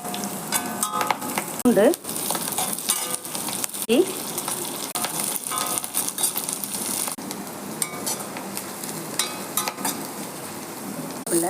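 Pirandai frying with chilies and garlic in plenty of oil, a steady crackling sizzle with stirring scrapes throughout, and a voice speaks briefly over it.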